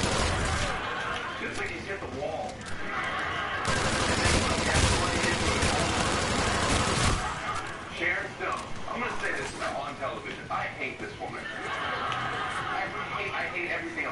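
Rapid gunfire in a PS4 shooter as a player empties the last of their ammo, dense bursts of shots running continuously and loudly through the whole stretch with no pause.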